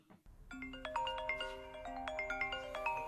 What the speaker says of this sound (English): that's my phone alarm sound to wake me up